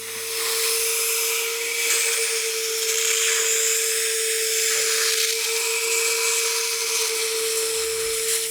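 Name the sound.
shop vacuum cleaning a table surface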